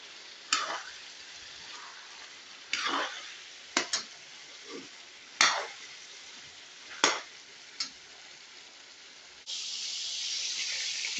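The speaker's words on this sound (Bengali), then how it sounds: "এখন একটু কষানো হয়ে গেছে।" Spices being stirred and sautéed in a frying pan, with a steady sizzle broken by several sharp scraping strokes of the spoon, then a louder, denser sizzle near the end; close and clear, no talk.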